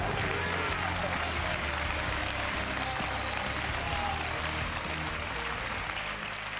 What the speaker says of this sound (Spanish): ¡Un fuerte aplauso para Boliki!